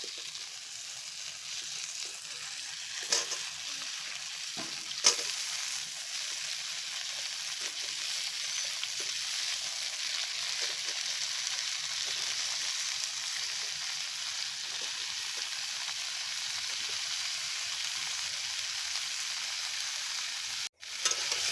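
Diced ash gourd frying in a pan with drumstick pieces gives a steady, close hiss of sizzling oil, with a few sharp clatters near the start.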